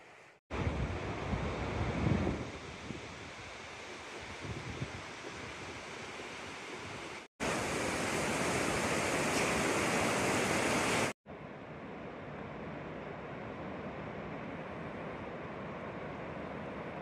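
A river flows through the Grand Canyon with a constant broad rush of water, heavy wind buffeting the microphone, and a louder burst partway through, with no voices.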